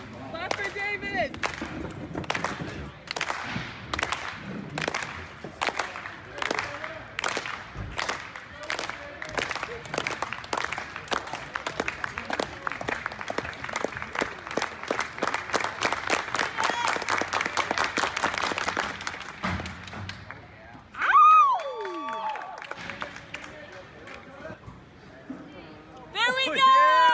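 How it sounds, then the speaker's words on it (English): Crowd at an indoor track championship meet claps in a steady, rhythmic beat that speeds up into rapid clapping for a jumper, loud and nearby, then breaks off into cheers and shouts, with voices talking near the end. "Oh, he's starting the clap. Clap for David"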